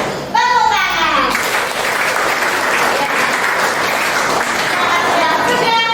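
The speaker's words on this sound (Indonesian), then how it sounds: "Tepuk tangan." Classroom audience applauding at a school teaching session, a dense, loud burst of clapping that starts abruptly after a brief voice and holds steady, with a voice audible at the end.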